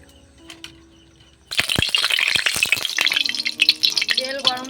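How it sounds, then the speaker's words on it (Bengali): Oil added to a hot wok after chicken is cooked down, quiet at first, then a sudden loud crackling sizzle with sharp pops that carries on steadily. "কড়াইটা গরম হয়ে গেছে এবার তেল দিয়ে দেবো"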